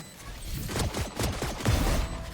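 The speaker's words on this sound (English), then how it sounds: "Swarm grenade out." A swarm grenade detonating in Valorant during a 5v5 round after the spike is planted, giving a dense burst of repeated popping blasts and crackles that keep going for a couple of seconds, loud and busy.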